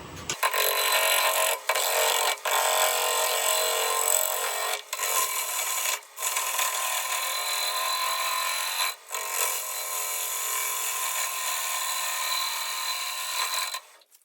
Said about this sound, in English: we're going to take a 5X, freshly sharpened, wet back bowl gouge, and we're going to start trying to make it balanced